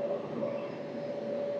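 The Visakhapatnam–Kollam Express stands at platform 7 with a steady mechanical hum and a sustained tonal drone, close and even, with no talk.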